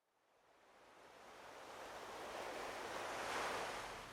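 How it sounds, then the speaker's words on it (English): Seaside waves lap the shore in a soft, steady wash of surf that swells gradually from near silence to a fuller hiss. "Waves lapping the shore."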